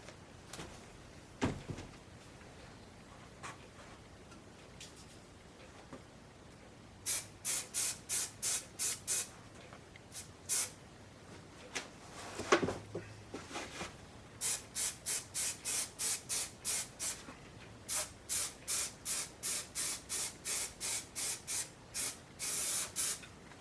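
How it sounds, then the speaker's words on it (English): Spray glue hisses onto the foam of a Future Mobility True Fitt wheelchair back cushion in several bursts, each a quick run of short, loud pumps up close, with quiet gaps between. "I'm going to put some glue here on both surfaces, along here and here."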